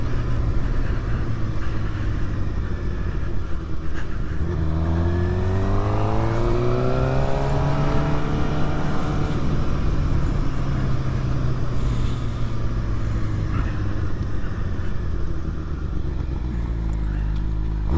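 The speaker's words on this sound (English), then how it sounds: "Always turns heads, this bike, because it's got that MotoGP sound to it" A 600 motorcycle with a MotoGP-style race bike sound, running close and loud, its engine note climbing steeply in a rev, holding high, then falling back to a rough idle.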